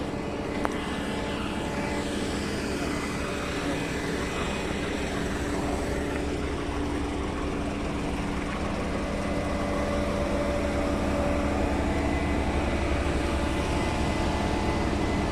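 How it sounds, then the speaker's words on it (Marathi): A pump set runs at a water supply in the Barvai tribal village near Karjat and Panvel, giving a steady, loud mechanical drone with a constant hum that holds unchanged from start to finish, with no talk. "पंप सेटिंग चालू आहे पंपाचं."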